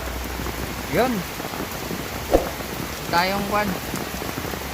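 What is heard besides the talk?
heavy rain pouring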